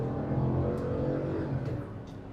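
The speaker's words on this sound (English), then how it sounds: "See, I'm flooring it." Steady engine drone from inside a 2026 Chevy Suburban Z71 at full throttle, a dense continuous roar with a faint rising tone.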